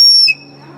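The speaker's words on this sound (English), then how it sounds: "if I take the lid off of my pen, it actually has a whistle in the cap" A whistle built into a pen cap gives one short, shrill, piercing blast that cuts off abruptly into quiet background.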